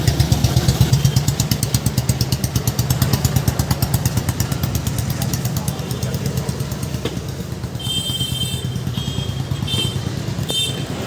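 A tractor's diesel engine idles steadily nearby at a tractor market with a fast, even chugging throb, joined by brief higher whining or squeaking sounds toward the end.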